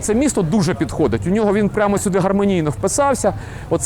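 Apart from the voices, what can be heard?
No everyday noise stands out behind the speech.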